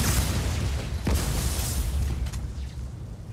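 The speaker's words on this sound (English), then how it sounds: "Bigger explosion." A deep rumbling explosion from Just Cause 4 on PS5, a heavy low boom that rolls on and slowly settles.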